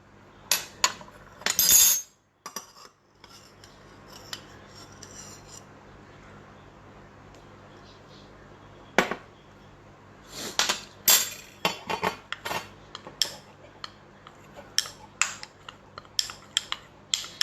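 Flour being mixed into a sourdough starter, with spoon scraping and clinking against a glass jar in irregular taps, near and fairly quiet, a loud clatter early on.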